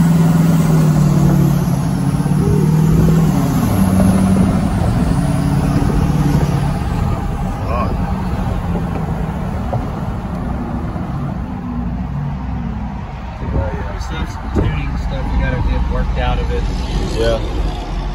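A 1200hp Duramax diesel truck engine idles with a deep, rough rumble, mostly steady, while people talk over it nearby.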